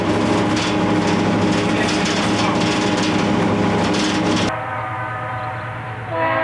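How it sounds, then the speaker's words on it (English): Stone train rumbling through a road crossing on a US railroad, loud and close, with heavy wheel and engine noise for several seconds before dropping to a quieter, steady rolling sound of passing cars. "Here's a stone train coming through Miller's Crossing."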